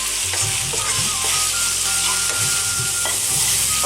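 Chicken pieces sizzle loudly and continuously in a pan over medium heat, a dense frying hiss with irregular scraping and stirring knocks from a utensil moving the meat around.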